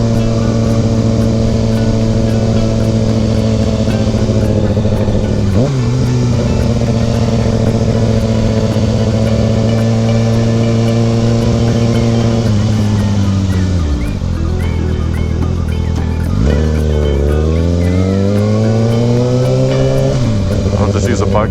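A motorcycle ridden through traffic in Hawaii, its engine loud and close, holding a steady drone, then dropping and revving back up twice as it slows and accelerates, with a rider's voice over it.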